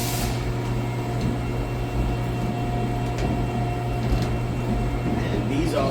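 A HAAS CNC vertical machining center hums steadily as it moves to its home position, with a constant motor drone and light mechanical whirring in a workshop while people talk nearby.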